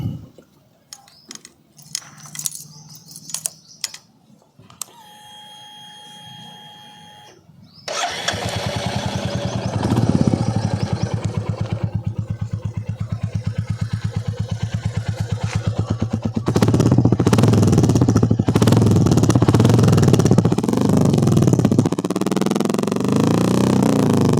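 A Royal Enfield Classic 350 motorcycle engine cranks and starts, then settles into a deep, steady thumping idle before revving louder and holding a strong, throbbing note.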